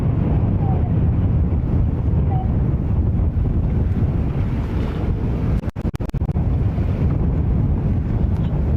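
Strong 19 mph wind at JFK airport on a chilly afternoon, roaring loudly and steadily across the microphone, with a brief crackling disturbance about two-thirds of the way through.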